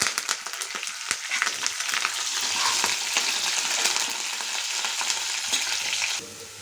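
Onions, green chilies and curry leaves fry in a pan with a loud, close, steady sizzle, opening with a few quick stirring clatters before the hiss settles and thins near the end.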